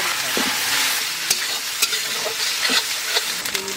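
Chili, garlic, ginger and cumin paste is stirred as it fries in a pan for a spicy goat curry, with a close, steady sizzle broken by sharp scraping and clinking strokes of the spoon.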